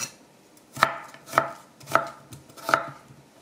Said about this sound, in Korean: 껍질을 깐 감자를 채 썰어 보겠습니다.